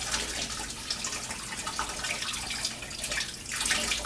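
Hands are rinsed under a running tap during handwashing, a steady close splashing stream of water that continues throughout.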